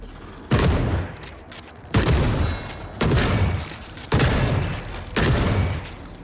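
Five heavy blasts from an anti-tank weapon boom out at roughly one-second intervals in a shooter video game, each striking sharply then trailing off in rumbling decay, loud and close with no talk.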